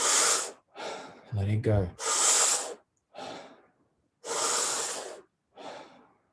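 Deep, forceful breaths from a guided breathing workshop come in a slow rhythm, long loud inhales and exhales separated by short pauses, with a brief spoken phrase between them.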